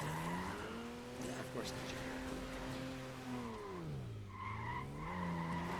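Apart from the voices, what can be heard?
car drifting and skidding in the video game Dead Rising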